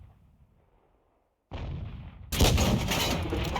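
Gunfire in a tank battle video game, mostly quiet at first, then a sudden loud blast followed by a heavier, sustained roar of firing.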